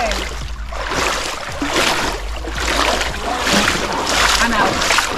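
Steady water splashing and sloshing as someone wades through a cold, shallow creek on a hiking trail, continuous and close with a constant rushing undertone.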